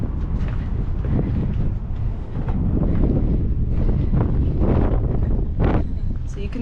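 Strong wind on a hilltop hiking trail above Phoenix buffets the microphone in loud, rushing gusts that swell and ease continuously.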